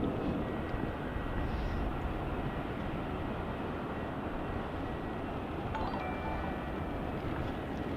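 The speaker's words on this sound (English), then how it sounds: "our next arrival as well is going to be the Rex 737" A Rex Boeing 737 arrives at Melbourne Airport in heavy rain, its distant jet roar a steady broadband rumble blended with the hiss of rainfall, with no talk.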